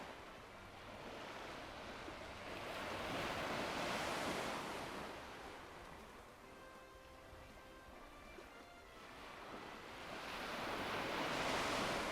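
Ocean waves wash at sea in the cooking game Epic Chef, a steady rolling surf with wind that swells and fades in slow surges, with no voices.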